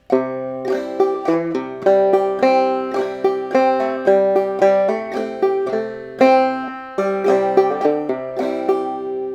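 A clawhammer banjo plays the A part of the fiddle tune "Billy in the Lowground": bright, plucked notes with a brisk bouncing rhythm, drone-string accents and quick decays, played up close and alone.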